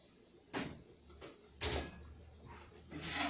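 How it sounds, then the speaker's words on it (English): A kitchen oven door is handled at home while a dessert goes in to bake, giving several separate thuds and clunks spread across the moment, moderately close with quiet room tone between. "let me put this in the oven"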